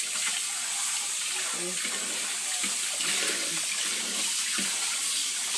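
A kitchen tap runs steadily while juicer parts are rinsed under it, giving a constant close splashing rush with small clatters of the parts.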